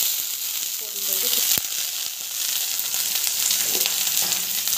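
Onions sautéing in hot oil in a home kitchen pan give a steady, close sizzle that holds through the clip, with a brief clatter partway and faint background noise.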